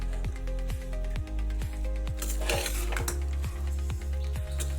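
A metal ladle scrapes and knocks against an opened pressure cooker while vangi bath is stirred, giving regular clanks about twice a second over a steady low hum, with a soft sizzling hiss.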